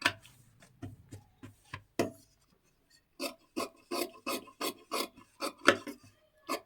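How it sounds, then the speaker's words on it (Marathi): Scissors cut through sari fabric for a young girl's jacket in a run of short, crisp snips, close by. A brief pause comes before a faster, steadier burst of cuts, with no talk. "आता हा सुद्धा कपडा इथे जेवढा जास्त आहे ना तेवढा इथे मी कट करून घेते."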